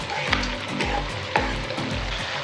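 Five chopped hot green chilies fry in a pan for chili momo, giving a continuous sizzle with a few louder stirring clacks, close and clear, with no voices.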